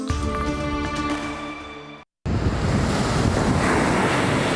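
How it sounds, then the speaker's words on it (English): Ocean surf breaking on the beach at Rodanthe on the Outer Banks, a steady loud wash of waves with wind noise, interrupted by a brief silent cut midway. "the sunrise and the sound of the waves"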